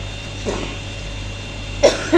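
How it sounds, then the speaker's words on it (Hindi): Two short coughs, the first faint and the second closer and louder, separated by a quiet stretch with a steady background hum. "खांसी भी शुरू हो गई"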